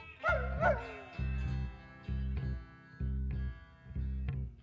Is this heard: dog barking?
yes